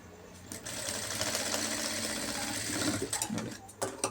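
A sewing machine stitches blouse cuffs in one continuous run of about three seconds, a close, rattling mechanical whir with fast ticking, ending in a few clicks and handling knocks.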